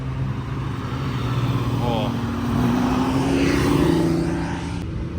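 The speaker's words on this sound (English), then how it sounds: "Those Countach sound really good." A Lamborghini Countach supercar engine drones steadily nearby with a rising pitch, blended with other traffic and wind-like noise, while people talk over it.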